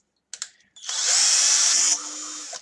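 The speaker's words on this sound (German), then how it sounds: "Aber das ist trotzdem nur Plastik und das ist ein Metallbohrer" A metal drill bit bores through a plastic part on a toy Mercedes Arocs tipper truck model. After a brief start, a loud, steady high-pitched whine runs for over a second, then eases slightly before stopping.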